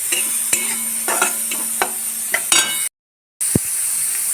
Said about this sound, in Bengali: রসুনটা আমার লাল করে ভাজা হয়ে গেছে